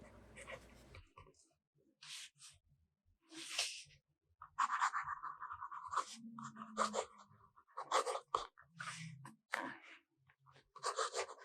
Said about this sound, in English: Now, I'm getting better writing with that zoom nib.